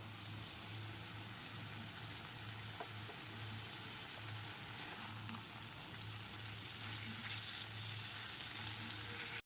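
Fried potatoes sauté in a pan of well-cooked spice masala, giving a soft, steady, even sizzle that runs unbroken the whole time, fairly quiet, with a faint low hum beneath and no voices.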